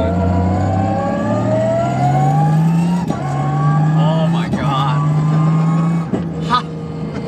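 A 1JZ-swapped Lexus IS300 with a sequential gearbox pulls hard through the gears, its engine note climbing steadily in loud, continuous runs broken by sharp upshift cuts, heard from inside the car.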